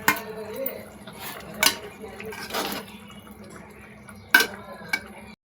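Moong dal dumplings dropping into simmering tamarind curry in a pot, a few soft splashes and plops spaced over several seconds, fairly close, with faint bubbling between them.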